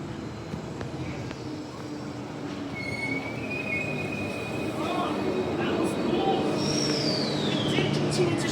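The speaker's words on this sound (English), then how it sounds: "Fremantle Line train coming in." A Fremantle Line train pulls into a station, a steady rumbling roar with rising wheel squeal and high screeching tones building as it arrives close by.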